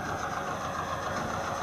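A Zetor 8011 Crystal tractor, made in Czechoslovakia, ticking over at idle with a steady mechanical chatter and hum at moderate distance, shown at an old farm tractor club gathering in Belgium.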